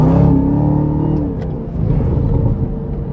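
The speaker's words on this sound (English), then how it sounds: "listen to that backfire." A 2024 Chevrolet Camaro ZL1 Convertible engine roars loudly up close as it accelerates, with a few brief sharp pops midway through the steady, rumbling revs.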